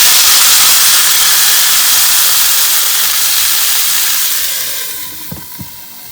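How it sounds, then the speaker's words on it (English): Water hits a hot pan of pan-fried pork dumplings and bursts into a loud, continuous steam hiss that slowly fades, followed by a couple of soft knocks as the lid settles. "Then add some water to the pan and cover with a lid to steam."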